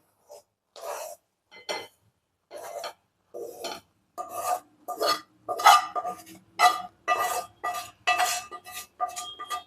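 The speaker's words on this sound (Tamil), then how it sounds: "வேற ஒரு பவுலில் மாற்றிடலாம்." Roasted gram flour is scraped out of a pan into another bowl, making a series of short, rasping spoon-on-metal scrapes that come faster and louder as the transfer goes on, close by with no talking.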